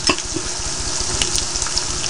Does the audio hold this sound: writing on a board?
no